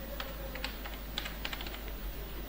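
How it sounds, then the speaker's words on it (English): Typing on a computer keyboard in short bursts of quick, light key clicks, close by, over a steady low electrical hum, with no one speaking. "Now type any word from the keyboard."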